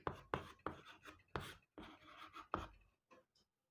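Chalk or marker writing on a classroom board during an economics lesson, a series of quick scratchy strokes in an uneven rhythm, close and fairly quiet, without speech.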